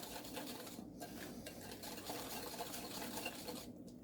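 Lemon cookie dough of egg and powdered sugar is stirred in a bowl, giving a steady, soft scraping and mixing sound with faint clinks and no talking.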